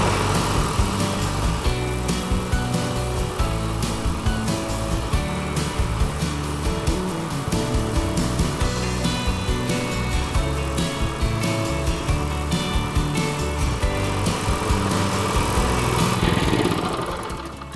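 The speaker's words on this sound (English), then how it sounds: "So we can now start it. So the choke's on, give it a pull, get a rev, cylinder in," A Cobra Fortis 20B cylinder lawn mower engine running steadily, a loud close petrol drone with a throbbing rhythm that holds throughout and tapers at the very end, no voices over it.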